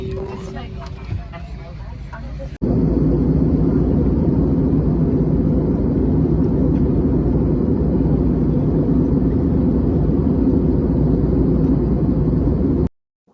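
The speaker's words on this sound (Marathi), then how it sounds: "प्लेन मधनं आणि भरपूर आवाज आहे" Inside a passenger airplane cabin, the engines give a loud, steady, broadband roar. It starts abruptly after some quieter background at the beginning and continues unbroken for about ten seconds before cutting off.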